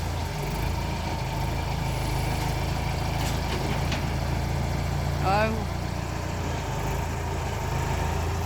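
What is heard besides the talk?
tractor engine running while loading a barge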